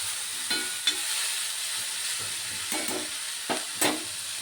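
Sprouted beans stir-fried with a ground paste, a steady hiss of sizzling punctuated by several scraping stirs spread through the clip, with no talking.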